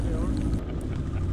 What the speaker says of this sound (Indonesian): Hujan dan angin cukup kencang.